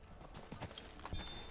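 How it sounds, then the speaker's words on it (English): Horse hooves clip-clopping in Diablo 4, a short run of soft, evenly spaced steps at moderate distance over low game ambience, with no talking. "Every fucking horse walks over a fucking plant."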